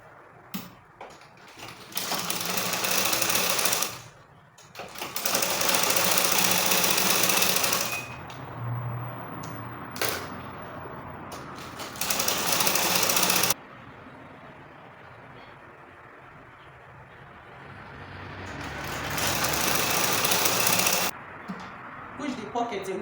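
A sewing machine stitching a trouser seam runs in several long, steady buzzing bursts, close and loud, separated by short pauses.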